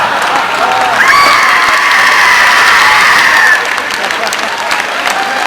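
An audience at a Halloween 2007 Comic-Con panel screams and cheers loudly, a dense roar of voices that holds for several seconds and then eases slightly toward the end.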